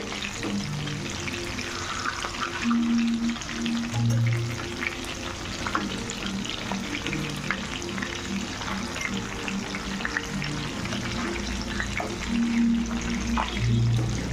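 Chicken pieces deep frying in hot oil for chilli chicken, a dense continuous bubbling sizzle with occasional clinks and stirring knocks, close and steady for the whole stretch, no talking.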